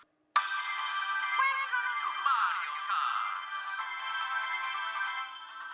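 Bright, chiptune-style Mario Kart music and effects play steadily from a Trimui Brick handheld console's small speaker nearby, tinny and continuous, with no talking.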